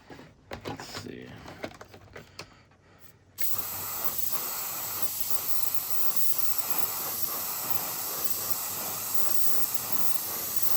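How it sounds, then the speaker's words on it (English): Spray paint can hissing while coating a plastic model of a 1972 Chevy Fleetside truck, a steady close continuous hiss that starts abruptly after a few seconds of quieter handling noise and runs unbroken to the end. "I hate spraying"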